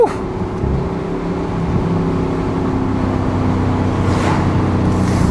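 A 2020 Porsche Cayenne Coupe Turbo accelerating hard from inside the cabin, a loud continuous engine roar with a steady drone and rising pitch throughout, no talk over it.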